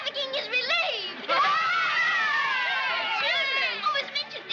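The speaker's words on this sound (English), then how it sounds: "Do you hear the cheering?" A film crowd cheers and shouts in a sustained, loud roar of many voices, with excited higher voices rising over the din throughout.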